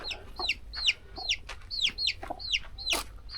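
Chicks cheep in quick rising peeps, repeated over and over, with a hen clucking softly nearby.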